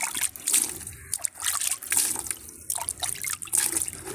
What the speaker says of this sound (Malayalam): നമുക്ക് ഇത്തിരി വെള്ളവും കൂടി ഇതിലേക്ക് ഒഴിച്ചു